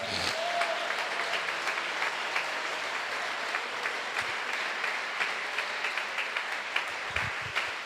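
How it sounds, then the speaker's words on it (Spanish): A church congregation breaks into steady, full applause, dense and continuous from start to finish, with a brief vocal note early and occasional louder claps standing out. "¿Por qué no le das un aplauso a Él?"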